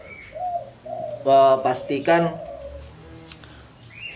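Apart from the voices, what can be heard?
zebra dove (perkutut) cooing in a cage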